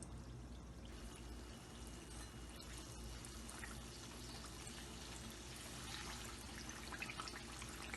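Chicken kachori frying in hot oil gives a continuous soft sizzle and bubbling hiss, steady and fairly faint, with no talking over it.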